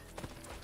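A brief horse clip-clop from the video game Assassin's Creed Brotherhood, a few quiet hoof taps heard alone in a short moment.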